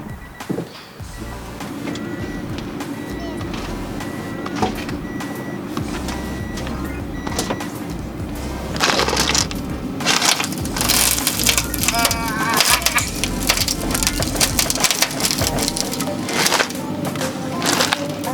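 Car tire on a Honda Prelude fitted with new rims and spacers rubbing against the fender as the wheel is turned, a loud, continuous grinding scrape lasting many seconds that grows rougher and more crackling toward the end.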